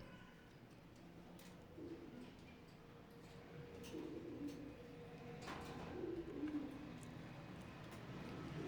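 Teddy pigeons cooing in a loft, soft low repeated coos heard faintly among background rustles and clicks.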